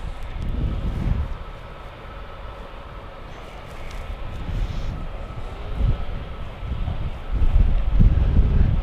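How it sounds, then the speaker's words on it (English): An Airbus A380's jet engines at Gatwick Airport give a steady, broad, distant roar and rumble that swells and ebbs, growing louder toward the end, with no talk. "It's an Airbus A380 going to Tangier."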